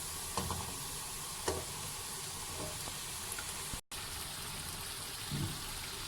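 Fish pieces fry in masala in a pan, making a continuous soft sizzle with a few faint clicks and stirring taps throughout.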